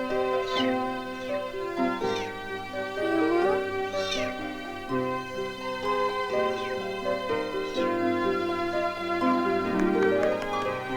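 A small kitten mews again and again in short, high, wavering cries over a steady melodic music backing, with a voice briefly underneath.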